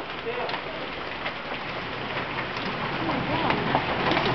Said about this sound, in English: It's hailing again!